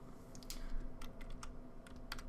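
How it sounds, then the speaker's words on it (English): Arrow keys on a computer keyboard tapped in a quick series of light, close clicks while nudging an object in graphics software, quiet with no talk. "Just nudge it over with your arrow keys."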